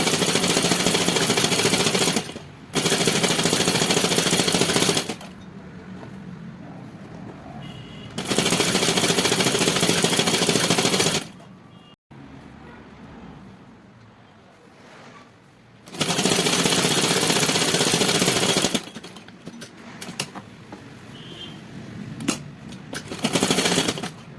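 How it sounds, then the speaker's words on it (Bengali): Sewing machine running long straight stitches along a trouser seam, loud rapid mechanical whirring in several bursts of a few seconds each, separated by quieter pauses with faint handling sounds. "খোলা মুখ দুটো এক জায়গায় করে নিয়ে এবারে আমি লম্বা সেলাই দিচ্ছি পুরো সিটের আগে পর্যন্ত।"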